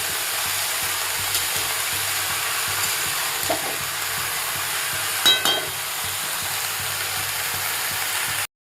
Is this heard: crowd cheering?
no